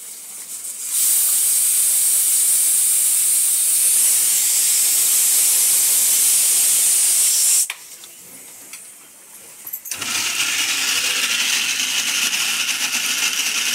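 Steam hisses loudly and steadily from a pressure cooker on a home stove, broken by a short quieter gap, then a sustained hissing whistle resumes with a lower rumbling underneath.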